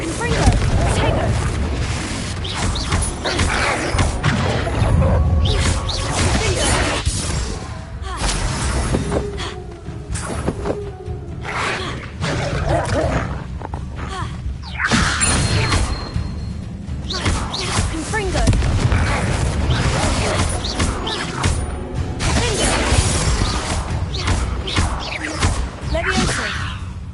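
Spell effects from Hogwarts Legacy, including levitation, fire-blast and shield casts, sound as a dense, continuous run of booms, whooshes and thuds across the whole stretch, loud and busy with repeated impact bursts.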